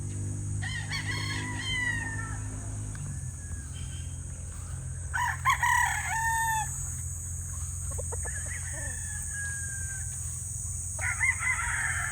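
A rooster crows several times over a steady low background hum, with hens clucking and calling nearby between the crows, on a gamefowl farm.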